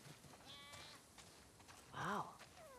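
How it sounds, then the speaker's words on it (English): Sheep inside a barn in The Last of Us Part II bleat, with one loud, wavering bleat near the end and fainter calls earlier, over soft ambience. "Wow. That's a lot of sheep."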